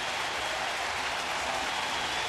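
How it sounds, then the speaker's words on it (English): Baseball crowd at a Yankees–Rangers game giving a standing ovation: dense, continuous applause and cheering filling the stadium at steady high volume, with no individual voices standing out. "They gave him a standing ovation."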